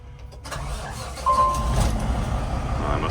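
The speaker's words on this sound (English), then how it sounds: "it must be that new PACCAR engine" The engine of a nearly new PACCAR-powered truck cranks and catches, then settles into a loud, steady low idle close by.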